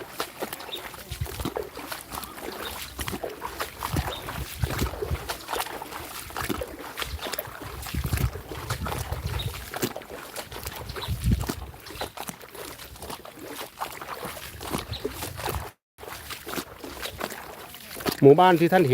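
A fisherman paddles a rowing boat against the current through a flooded village, with paddle splashes and sloshing water close by, continuing under someone talking at length.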